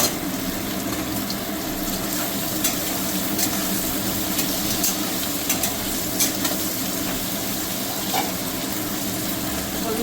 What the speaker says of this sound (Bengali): আমি 2 মিনিট একটু ভেজে নেবো আলুটা